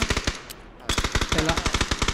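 Rapid automatic gunfire in PUBG, a close, loud burst of evenly spaced shots, a brief pause, then another sustained stream of shots, with no talking.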